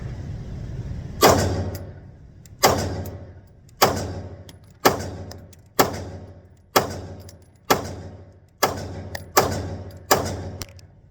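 Nine sharp gunshots from an HK P30L pistol crack out one by one at roughly one-second intervals, each with a quick decaying echo, loud and nearby without any talking.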